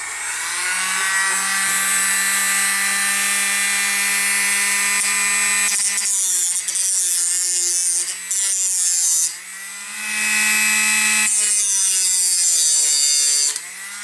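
A Dremel with a cutoff wheel cuts through a plastic part of a Tortoise switch machine, making a loud, steady high-pitched whine whose pitch sags and wavers as the wheel bites in, then briefly recovers, with no voices.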